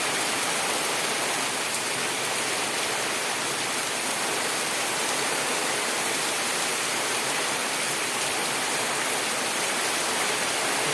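Heavy rain pouring down in a dense, unbroken roar of hiss and patter that stays loud and even throughout, with no voices.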